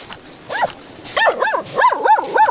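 A dog barks repeatedly in sharp, close, fairly loud yaps, starting single and then coming in a quick run of barks.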